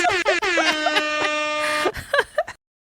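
A loud, sustained air horn blares for about a second and a half, followed by a few short toots and quick bursts of sound before it cuts to silence.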